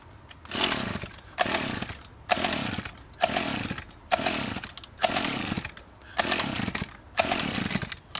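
A small engine on half choke is pulled over repeatedly, about eight rhythmic rasping cranking bursts at roughly one-second intervals, loud and close, never catching and running, with no talking.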